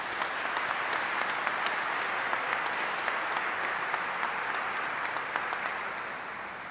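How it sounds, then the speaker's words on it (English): An audience at an aerospace conference awards ceremony gives a long, even round of applause for the recipients, many hands clapping steadily before it slowly fades. "Let's give one last big round of applause to all the recipients."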